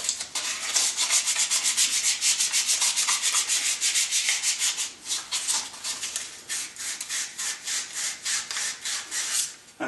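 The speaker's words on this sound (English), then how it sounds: "If it doesn't slide over that easy, I'll clean it up with a piece of emery cloth" A Geo Tracker wheel hub is rubbed with 1000 grit emery cloth in quick, rhythmic back-and-forth strokes. The bright scratchy rasping is close and continuous, and it eases slightly toward the end.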